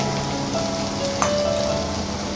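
Chopped bottle gourd hitting hot oil seasoned with panch phoron in a pan gives a steady, close sizzle and crackle of frying, with a brief clatter partway through.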